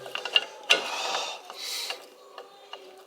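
An emergency brake part is pulled out of a 1964 Triumph TR4 during rear wheel cylinder work, giving close ratcheting clicks and scraping metal rattles over about three seconds.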